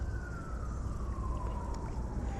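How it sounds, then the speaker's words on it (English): A police siren wails far in the distance near a city fishing spot, a faint, slowly falling tone drifting over steady low outdoor rumble. "this is like the first time I've heard the sirens when we fish"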